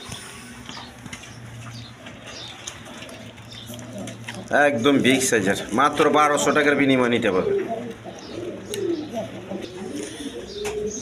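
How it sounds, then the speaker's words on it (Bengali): A big-sized pair of pigeons at a seller's stall coos softly and steadily in the background while someone talks loudly over them for most of the stretch. "দর্শকবৃন্দ এখানে এক পেয়ার কবুতর আছে দেখেন"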